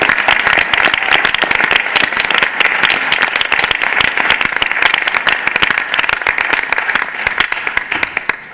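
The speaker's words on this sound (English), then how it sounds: "We could have one big round of applause for all of our athletes." Dense, sustained applause from an audience at a board of education meeting for school athletes, loud and continuous for several seconds before easing slightly.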